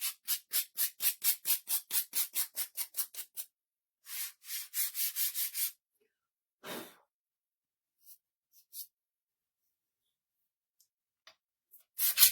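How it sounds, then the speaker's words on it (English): Sandpaper scrubbing the painted brim of a scarecrow's hat, a fast run of about a dozen close rhythmic rasping strokes, a pause, a second shorter burst of strokes, then a few scattered scrapes and near silence. "Let's try the brim of his hat here and kind of sand it up."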